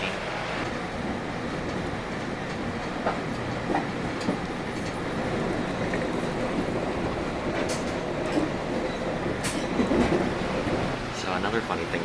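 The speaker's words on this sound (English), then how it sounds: "On the train, 1 hour to Albuquerque." Steady rumbling inside a moving Rail Runner commuter train to Albuquerque, with rattling, occasional clicks and knocks over a constant low roar, no voices.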